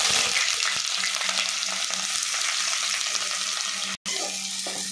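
Onions sizzle and crackle in hot oil in a pan, a dense, loud frying hiss that carries on steadily, broken only by a brief drop near the end.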